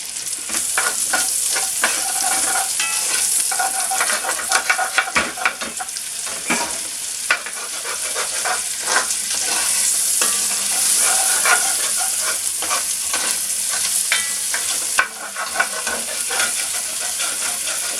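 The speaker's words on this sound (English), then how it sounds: "So now I'm going to throw the mushrooms in and do the same thing." Mushrooms and bacon bits sizzle loudly in a pan while being stirred and scraped, a continuous close frying hiss broken by clattering utensil scrapes, with no talk.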